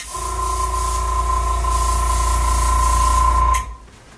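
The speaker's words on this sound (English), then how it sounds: "Full Face Beauty airbrush makeup on Haley." An airbrush sprays makeup onto a face in a continuous, close, airy hiss over a steady compressor hum with a tonal whine, stopping sharply near the end.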